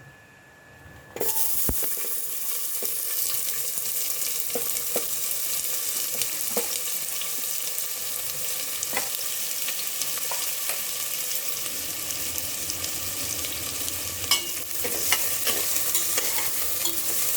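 Onion fries in hot oil for a mutton dish, a loud, steady sizzle that starts abruptly and holds throughout, close by, broken by occasional clinks and scrapes of stirring.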